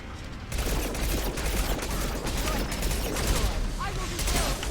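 Sustained rapid gunfire erupts in a Mass Effect 2 combat scene, a dense continuous barrage of shots that starts abruptly after a short quiet moment and carries on loudly to the end.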